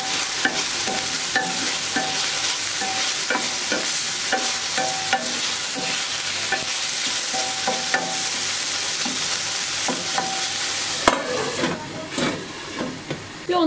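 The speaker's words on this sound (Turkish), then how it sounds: "Bir 5-10 dakika ara ara karıştırarak pişireceğim." Chicken pieces sizzle steadily in olive oil in a pan, with repeated scraping stirs throughout, a brief louder hiss late on, and no talking.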